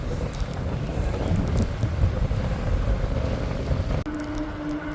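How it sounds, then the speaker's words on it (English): Strong headwind buffets the microphone of a moving ebike on a bike trail, a loud continuous low roar and rumble that drops abruptly near the end. "I have been fighting a very significant headwind. I don't even know if you can hear me over the wind."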